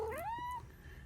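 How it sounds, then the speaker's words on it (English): A pet cat gives one clear, close meow that rises and then falls, followed by quiet room background. "that's my cat Kiki."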